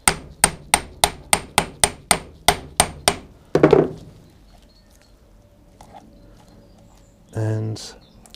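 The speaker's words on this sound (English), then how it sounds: "with the drive shaft, just tapping it on." A hammer taps a drive shaft onto the hub of a VW Golf GTI, about eleven sharp, evenly spaced metallic knocks close by, followed by a few clattering handling sounds and a brief low buzz.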